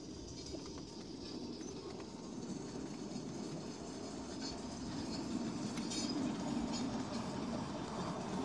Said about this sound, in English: You hear that the Ruston has some sound effects going there.